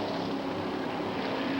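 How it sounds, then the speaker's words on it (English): Sprint car engines roar in a steady, dense drone at the Hoosier Hundred dirt-track race, a continuous loud wash of several engines with no talking. "Say, Sills was on the gas"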